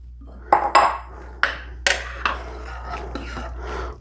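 A spoon stirs frozen sweet peas into chicken stew in a slow cooker, giving a few sharp scrapes and clinks against the crock followed by softer irregular knocks under a low steady hum.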